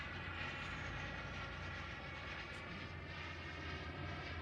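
A Freewing Zeus 45NT turbine RC jet makes a low-throttle pass at about 40% power, a steady distant jet whine and rushing hum holding even in level throughout the pass with no voices.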